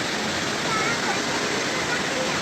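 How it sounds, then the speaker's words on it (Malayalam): A waterfall pours steadily and loudly, a dense, unbroken wash of rushing water close by that fills the whole stretch without pause. "എന്താ രസം വെള്ളച്ചാട്ടം കാണാൻ"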